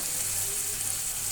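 Tomatoes and onions frying with salt in a pan give a steady, close sizzle with a soft hiss that holds evenly throughout, with no voices over it.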